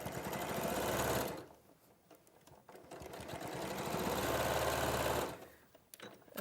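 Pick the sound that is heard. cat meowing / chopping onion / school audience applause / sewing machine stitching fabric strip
sewing machine stitching fabric strip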